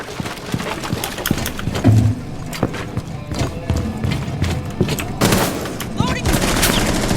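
Gunfire erupts from behind the player in the Rainbow Six Siege video game: scattered sharp shots crack through a busy mix of in-game noise, with a dense burst near the end.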